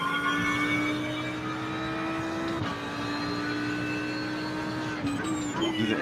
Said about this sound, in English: How do the engine notes sound to you?